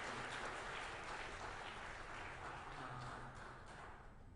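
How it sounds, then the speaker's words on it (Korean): Sustained applause from a congregation at a Korean church Sunday service fills the room as a dense, steady wash of many hands clapping, easing slightly in loudness toward the close. "박수로 격려해 주셨으면 좋겠습니다"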